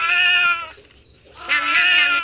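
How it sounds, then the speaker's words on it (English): Two loud, drawn-out cat meows from the Roblox game Raise A Floppa 2, separated by a short gap, close and clear with no talking over them. "For a second, it makes a meow."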